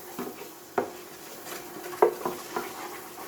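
Aubergine being stirred with flour and butter in a pan: a few soft scraping clinks of utensil against the pan at irregular moments, over a faint quiet sizzle, with no talk.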